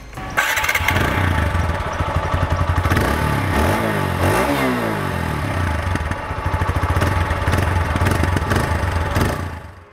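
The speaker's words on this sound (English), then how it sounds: "So let me just start the bike and show that to you." A TVS Apache RTR 160 4V motorcycle with a shotgun exhaust cranks and fires up, then settles into a loud, close idle with a couple of throttle blips revving it midway.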